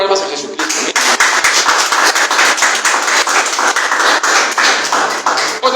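A church congregation claps loudly in praise of Jesus Christ, sharp individual claps close by forming a fast, uneven burst that runs the whole time, with a voice audible at the start and end.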